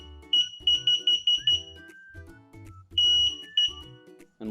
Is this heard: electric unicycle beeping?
yes